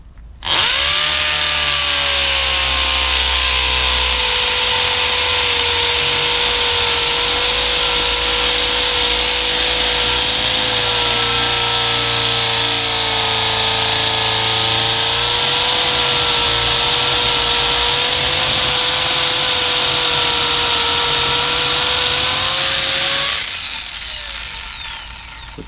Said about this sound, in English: let's try it with the actual chisel portion now